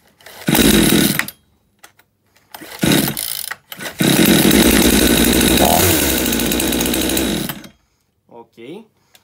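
A brand-new, not flooded chainsaw is pull-started, giving short loud bursts of engine noise before it catches and runs steadily for several seconds, then cuts off; brief speech follows at the end.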